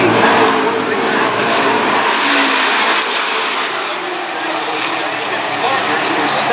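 Race cars roar around an oval track during an early lap, a loud continuous engine drone with shifting pitch as the pack passes close, under a commentator's steady talk.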